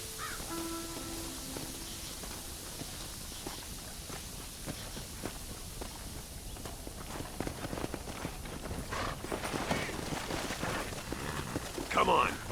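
Horse hooves clip-clop in Red Dead Redemption, soft, steady and fairly close, with crows cawing nearby and someone talking over them.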